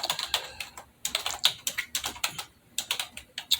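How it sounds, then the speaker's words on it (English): Fingers tap rapidly on a computer keyboard, with close, crisp clicking keystrokes in quick bursts and brief pauses between them, and no voices. "And Salaki, I'm just typing it in here"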